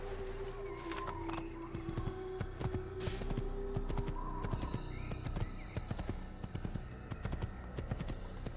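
Hooves of a black horse clip-clopping in Assassin's Creed, a quick irregular patter of sharp knocks over a low rumbling game ambience with faint tonal calls drifting in.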